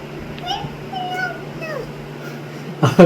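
A cat meows several times in short rising and falling calls, moderately close, over a low steady hum, ending with a couple of louder bumps.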